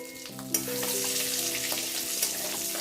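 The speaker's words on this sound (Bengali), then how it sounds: "শুকনো লঙ্কা, এলাচ এগুলো একটু ভেজে নিতে হবে।" Dried red chillies and cardamom pods crackle and sizzle steadily in hot oil for a Bengali prawn curry, close and fairly loud, with a few sharper pops and faint utensil clinks and no talking.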